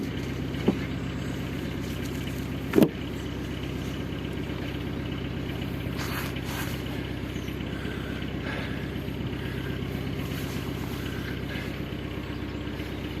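A narrowboat's diesel engine runs steadily as the boat reverses away from a pontoon at Llangollen, a continuous close low throb with one sharp knock partway through.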